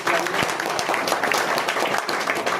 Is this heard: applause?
yes